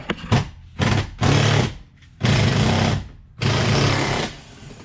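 Fender clips being torn out of a Jeep JL, several loud bursts of rough ripping and scraping of plastic against metal, separated by short pauses, close by and with no talking.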